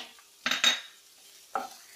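Chopped onion fries in hot oil in a pan, with a couple of close stirring scrapes and a clink of a spoon over a quiet, faint sizzle, no voices.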